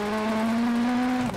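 Rally car engine in the WRC video game holding a steady loud drone for over a second before a brief shift near the end, heard alone without talk.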